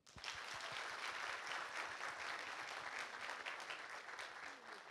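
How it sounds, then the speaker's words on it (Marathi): An audience at a Marathi live comedy show claps for teachers: a burst of dense applause that swells quickly and holds steady for several seconds, fairly close and loud, with a few scattered louder claps at the start. "त्या सगळ्या शिक्षकांसाठी एकदा टाळ्या होते."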